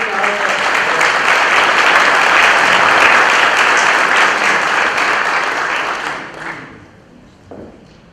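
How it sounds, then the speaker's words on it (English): An audience claps and applauds loudly for several seconds, then the applause tapers off into a few scattered claps. "please give them a round of applause too"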